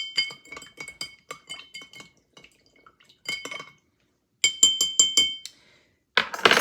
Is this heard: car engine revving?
no